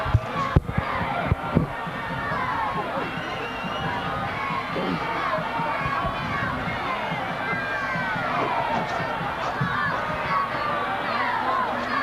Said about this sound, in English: There you can see some of the Warrior cheerleaders cheering on their guys